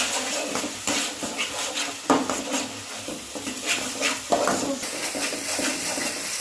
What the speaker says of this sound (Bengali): খুব সুন্দরভাবে আমি নেড়ে চেড়ে কষিয়ে নেব।